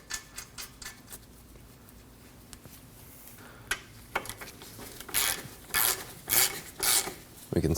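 A castle nut is threaded onto the front ball joint of a 2003-2006 Subaru Baja. Quiet metallic clicks and rubs build into bursts of ratcheting and rasping near the end.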